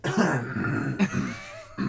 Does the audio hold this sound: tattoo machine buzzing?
no